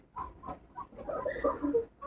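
Chickens in a small backyard coop give short soft clucks and murmurs, close by and fairly quiet, with a few overlapping calls toward the end.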